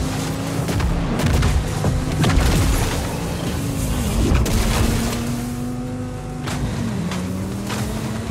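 Gunfire rattles in a Warhammer 40,000 racing game, repeated sharp cracks and booms over a steady droning engine whose pitch shifts as the vehicle races, loud and continuous with no talk.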